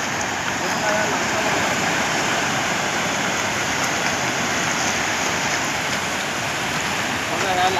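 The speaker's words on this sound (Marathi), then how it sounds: "बघा ह्या लाटा बघू शकता" Sea waves at Malvan beach on the Konkan coast wash in as a steady, loud roar of surf and churning water that fills the scene from start to finish, with no clear break between individual waves.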